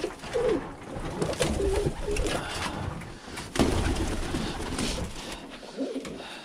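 Birmingham roller pigeons, a hen and a blue bar self cock, coo in a loft, soft repeated throaty coos at close range over a steady bed of bird noise.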